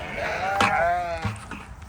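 Sheep in a flock lined up in an alley on a solar farm let out two loud, wavering bleats, the first long and the second shorter, close by.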